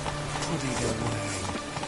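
Roach, a horse in the Witcher 3 video game, gallops through rain with steady clip-clop hoofbeats under a constant wash of rainfall, mixed with a rider's voice.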